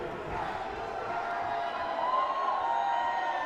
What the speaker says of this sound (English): the crowd calling for Durag